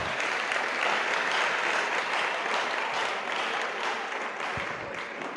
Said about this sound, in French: Est-ce que quelqu'un peut acclamer très fort pour le Seigneur?